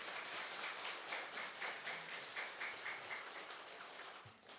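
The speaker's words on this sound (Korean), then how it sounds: "큰 감사와 찬탄의 박수를 한번 보내주시기 바랍니다." An audience at a Buddhist temple's Buddha's Birthday lantern-lighting ceremony applauds, giving steady, fairly faint, rain-like clapping that continues throughout and slowly thins toward the end.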